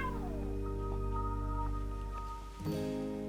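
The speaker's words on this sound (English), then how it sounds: "This is a cautionary tale about a cat called Luca" A pedigree Bengal cat gives a long, drawn-out meow that rises and wavers, with a few shorter meows following before a soft break and a final cry, loud and close with no talking.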